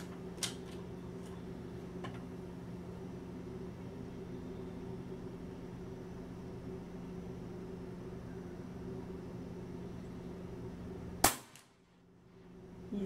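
A Leviathan 5.5 air rifle fires one sharp shot near the end, a loud close crack that cuts through a steady low hum and is followed by near silence.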